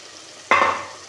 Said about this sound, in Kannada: ಇದಕ್ಕೆ ಟೊಮೆಟೊ ಹಾಕೊತಾ ಇದ್ದೀನಿ ನಾನು